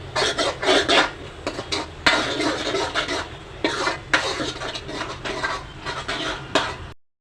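Misal curry being stirred in a pan, with a spoon scraping and clinking against the metal in quick repeated strokes, close and fairly loud with short pauses, no talking.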